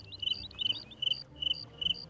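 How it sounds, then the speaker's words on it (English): Loud crickets chirp in the video game Morrowind, repeated bursts of high trilling pulses in an even rhythm over a low ambient rumble, with no talk. "Those are very loud crickets."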